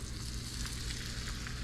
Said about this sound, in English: We got double battered speckled trout. Gonna fill this tray up. Get to frying.